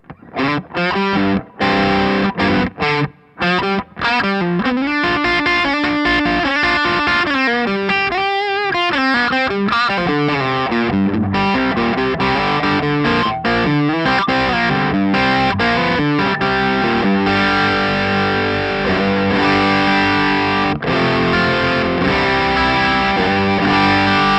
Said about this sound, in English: it's a nice thick sort of creamy overdrive sound. So on the bridge pickup, that and a little bit of reverb sounds like this